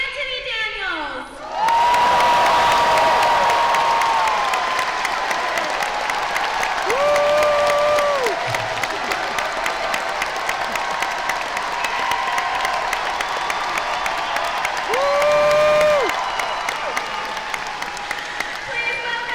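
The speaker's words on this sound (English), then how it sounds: "please give a huge round of applause to Anthony Daniels" A large convention audience at a Star Wars Attack of the Clones anniversary panel claps and cheers loudly and steadily for Anthony Daniels, a dense sustained roar that swells after a brief quiet start and runs to the end.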